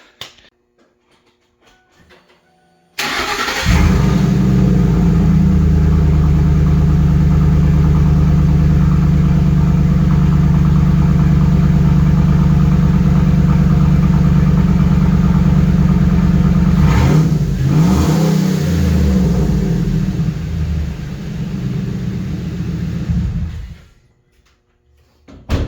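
A car engine with a homemade $150 exhaust, no muffler and open cats, fires up and runs loudly for about twenty seconds as a deep rumbling idle with a brief rev, then shuts off.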